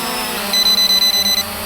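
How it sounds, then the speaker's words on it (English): A rapid series of about eight short, high electronic obstacle-avoidance warning beeps from an SG906 MAX drone in an even rhythm, sounding close over a low steady hum. "But I'm getting the beep as if there's something in the way."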